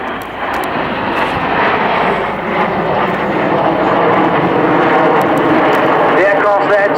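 Red Arrows jet aircraft flying a short diamond formation roll about 2,500 feet overhead at 400 miles an hour, only a few feet apart, giving a loud, steady roar that swells slightly and holds for the whole stretch with no talking.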